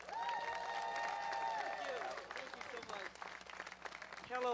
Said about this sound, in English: Will you all clap it up for Miss Renee Brown?